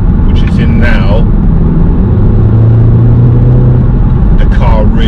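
An Audi S3 fitted with a Racechip tuning module accelerates in sports mode, giving a steady engine drone and low rumble with a rising tone from inside the cabin, while a person speaks over it.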